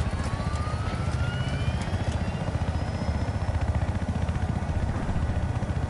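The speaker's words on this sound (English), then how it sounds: "I'm in a chopper!" A helicopter in a Battlefield video game drones steadily with a rapid rotor chop, loud and continuous throughout. Faint tonal sweeps sound over the engine noise.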